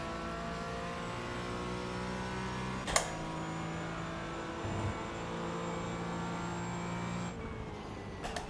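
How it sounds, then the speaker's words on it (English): Steady engine drone of GT4 and LMP3 race cars in an iRacing endurance event, a continuous mid-level whine with a brief sharp clunk near the start and a faster car's tone shifting as it closes in. "There's a faster class car approaching."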